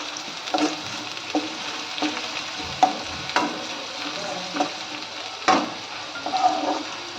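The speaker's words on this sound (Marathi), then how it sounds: "कांदा मस्त लालसर होईपर्यंत आपण भाजून घेऊया" Onions fry in hot oil in a pan for Kolhapuri chicken, a steady close sizzle broken by occasional sharper crackles and stirring scrapes, with no talking.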